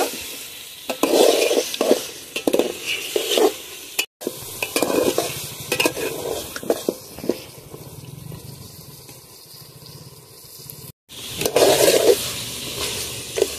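Meat for a home-style hand-mixed curry sautés in a pan, with sizzling frying under repeated scraping stirs of a spoon. Two brief silent breaks cut the clip, and no one speaks.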